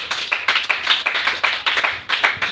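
A church congregation claps together in a steady, quick rhythm. The hand claps are loud and close and continue without a break.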